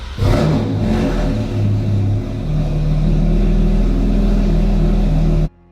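A flood-damaged Porsche 911 GT3 RS engine, run with its cap removed, revs loudly and up close with a deep, steady roar that rises and holds, then cuts off abruptly at the end.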